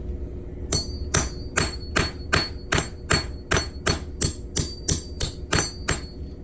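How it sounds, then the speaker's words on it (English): Sharp metallic hammer strikes drive a punch through a Missouri state quarter coin, ringing out one after another at a steady pace, about a dozen blows, loud and close with no talking. "I got my punch on top and I got my hammer, so I'm just going to drive this through"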